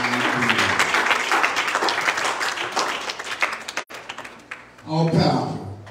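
Congregation clapping hands during a church sermon, a dense steady wash of claps under a preacher's voice, then a brief break before talking resumes.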